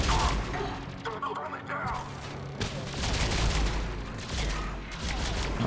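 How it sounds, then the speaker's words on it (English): Turret fire in the video game Mass Effect 3, dense overlapping bursts of gunfire and crackling impacts running continuously through a noisy battle mix. "I heard a turret."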